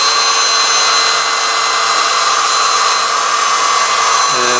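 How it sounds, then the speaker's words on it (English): An electric mattress pump blowing dust out of a MacBook, a loud, steady whine with a blowing roar that holds constant throughout. "This is basically a mattress pump."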